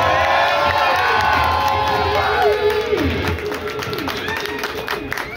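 Crowd at a live metal concert in a small Washington DC club cheers, whoops and claps loudly, with a ringing, sustained tone under the noise and the cheering gradually tapering off.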